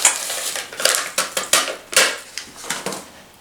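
A whisk beats instant Oreo pudding mix into whole milk in a bowl, sending quick rhythmic scraping clinks against the sides in a fast uneven series, close and alone.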